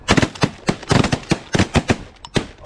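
Rapid volley of shotgun blasts during a nine-man Canada goose (honker) hunt, many sharp loud reports overlapping in quick uneven succession close by, with no talk between shots.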